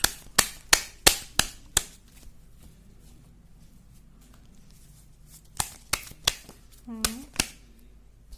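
Tarot cards are handled and shuffled close up, giving a series of sharp slaps and taps in quick bursts, with a quiet gap in the middle and a brief voice-like tone near the end.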